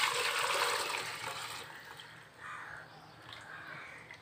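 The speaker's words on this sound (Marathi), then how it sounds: "यामध्ये मी आता हे जे पाणी काढलं होतं आपण ते पाणी मी टाकत आहे." Water is poured into a pot of simmering Maharashtrian amti curry masala. A gushing splash starts fairly loud, then fades into gentler trickling and bubbling, with no speech.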